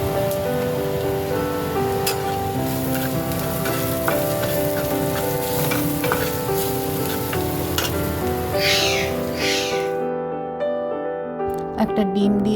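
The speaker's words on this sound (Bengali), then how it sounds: "অল্প হলুদ আর একটু লবণ দিয়ে দেবো, দিয়ে আবার একটু ভাজা ভাজা করব।" Food sizzles steadily in a pan with turmeric and salt, a continuous frying hiss running under background music and fading out near the end.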